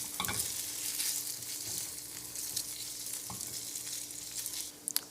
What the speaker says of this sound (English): let's give these shrimp a stir.